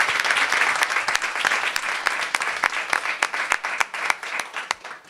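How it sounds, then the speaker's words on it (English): Audience at a school board of education meeting applauding a teacher who has earned tenure, a dense, steady wash of many hands clapping close by throughout, thinning slightly toward the end. "Deserve a round of applause."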